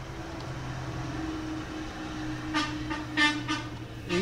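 A passing truck sounds its horn in several short honks late on, loud over a steady low engine drone.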